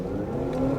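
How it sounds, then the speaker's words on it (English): A 2025 Honda CR-V Sport Touring pulls away from a stop in a parking lot, its engine note rising steadily in a brief, close, strained hum. "And you definitely hear that engine working once you do that."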